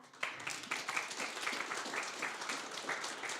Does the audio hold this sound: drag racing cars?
no